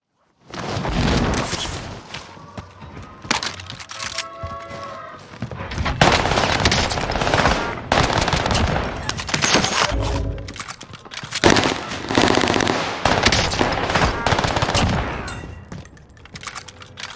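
A PP19 Bizon submachine gun fires in Call of Duty: Warzone Rebirth in loud, rapid bursts, with repeated stretches of automatic fire broken by brief pauses over a long exchange.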